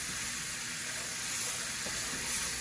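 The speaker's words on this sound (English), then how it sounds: "We are going to let this boil for about 2 minutes" Bacon dressing boiling in a pan, a soft, steady bubbling hiss that stays even and fairly quiet throughout, with no talk.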